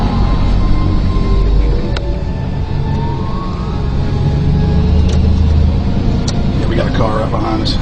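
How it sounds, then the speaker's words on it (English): A car driving close behind rumbles steadily, with traffic noise, a few sharp clicks and a faint siren-like tone in the background, while people talk over it. "Car right behind us."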